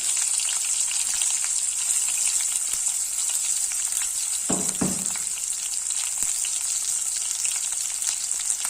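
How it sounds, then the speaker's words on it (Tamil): Crushed small shallots and green chillies fry in hot oil in a pan with a steady, bright sizzle throughout, broken midway by a couple of louder stirring scrapes; no voices. "இந்த ஸ்டேஜில் இந்த மாதிரி வெங்காயத்தையும் தட்டி வச்சுட்டு சேர்த்துக்கிறேன்"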